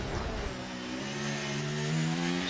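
Formula 1 cars racing at the Mexico City Grand Prix in the F1 23 video game, a steady high engine whine that climbs in pitch as the car accelerates, heard alone at moderate loudness.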